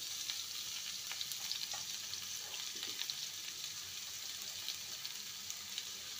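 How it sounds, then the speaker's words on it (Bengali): Bitter gourd and potato pieces frying in a pan, a soft continuous sizzle with small crackles and occasional stirring clicks. "এবার আলুর টুকরোগুলো দিয়ে দেবো। ভালো করে নেড়ে নিয়ে দিয়ে দেবো"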